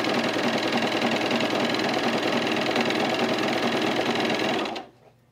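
Sewing machine stitching through thick chino pant fabric, a loud, steady, rapid mechanical hum running continuously for several seconds before stopping abruptly near the end, with no talk.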